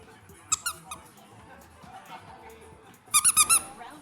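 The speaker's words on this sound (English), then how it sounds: "It seriously sounds like someone is using a squeaky hammer in this fight" Squeaky hammer hits from the Nintendo Switch Sports video game: a couple of isolated high squeaks, then a quick loud run of four squeaks near the end, over faint background talk.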